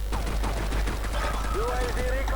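Rapid bursts of automatic gunfire in the video game Counter-Strike 1.6, crackling in quick clusters while a player talks over them.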